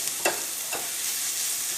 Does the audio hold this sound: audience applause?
no